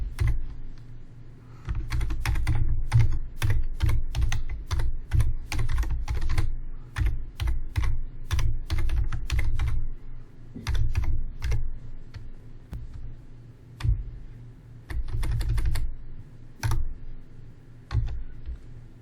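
Continuous typing on a computer keyboard while a cloud security group name is edited, with dense clattering keystrokes in bursts and short pauses, close and fairly loud, no talk.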